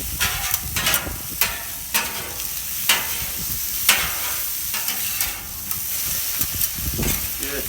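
Chicken, potatoes and brussels sprouts sizzle on a Camp Chef flat top grill while a spatula tosses them, with repeated sharp metallic scrapes and clacks over a continuous loud frying hiss.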